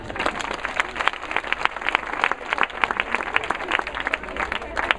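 Conference audience applauding together, a dense and steady burst of clapping heard from within the room throughout.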